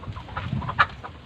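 Chickens cluck on a farm in a short, moderately loud burst of calls, with one sharper squawk standing out near the end over a low background murmur.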